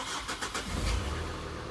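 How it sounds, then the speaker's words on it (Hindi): A used diesel car's engine cranks on the starter and catches, a brief whirring crank followed by a low rumble settling toward idle, fairly quiet and close. "सबसे पहले आपको गाड़ी के अंदर बैठ के इंजन को है ऑन कर लेना है"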